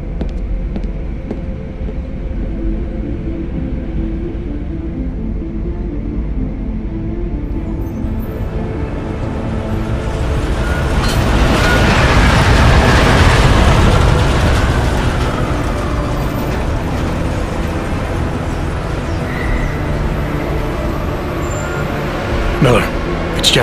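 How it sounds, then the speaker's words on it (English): A train in the video game Deus Ex: Mankind Divided arrives with a loud, continuous rumble that swells toward the middle and settles again, with a brief high squeal near the end and voices over it. "just getting off the train now"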